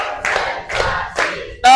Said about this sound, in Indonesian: tepuk lima, siap belajar